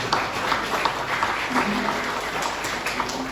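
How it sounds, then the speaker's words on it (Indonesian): A congregation at a church thanksgiving service for a synod anniversary gives moderate, steady applause, with scattered distinct claps and a faint murmur of voices beneath. "Tepuk tangan kita untuk semua."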